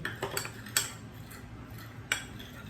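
Salt, garlic powder and black pepper being mixed in a bowl with flour and baking powder, heard as a few sharp metal clinks and light scrapes of a utensil against the bowl over a quiet background, no voices.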